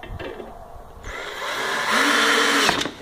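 A power drill drives wood screws through square brackets into a wooden birdhouse, a rising whir that builds over a couple of seconds and then stops, close and fairly loud with no talk.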